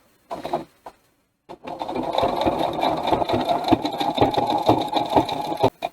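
A sewing machine runs steadily for several seconds, stitching fabric along a lined-up edge, after a couple of short bursts at the start, then stops abruptly near the end with a final brief burst.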